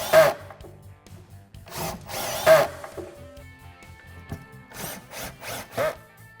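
Pocket hole screws being driven into a wooden face frame with a power drill, several short loud bursts of whirring drive separated by pauses, with faint handling clatter between them.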